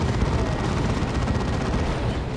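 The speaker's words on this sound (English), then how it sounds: "West side, Assault Cannon doing its Assault Cannon thing." An Assault Cannon fires continuously in Warhammer 40,000: Dawn of War 2, a dense, unbroken rattle of heavy gunfire and battle noise filling the whole moment at close, loud level.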